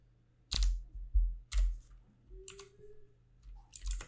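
Keystrokes on a computer keyboard while a formula is entered in an Excel spreadsheet, a handful of distinct close clicks in short irregular bursts with quiet gaps and a faint steady hum beneath.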